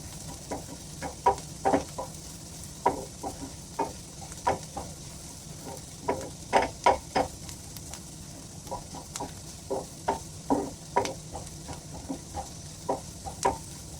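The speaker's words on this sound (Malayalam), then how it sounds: "ഇനി നമുക്ക് കട്ട് ചെയ്ത പച്ചമുളക് ഒന്ന് ആഡ് ചെയ്ത് കൊടുക്കാം അപ്പോൾ ഞാനിവിടെ മൂന്ന് പച്ചമുളകാണ് കട്ട് ചെയ്ത് ചേർത്ത് കൊടുക്കുന്നത് ഇനി ഇതൊന്ന് ചെറുതായിട്ടൊന്ന് സോട്ട് ചെയ്തെടുക്കാം" Onions and three cut green chillies sauté in a pan for prawn curry, a soft steady sizzle broken by regular scraping and tapping stirs, close and without talk.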